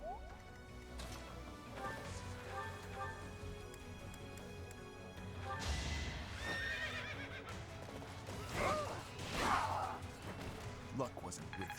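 A horse in a Fire Emblem game whinnies loudly and its hooves clip-clop, with game effects and a voice talking over it.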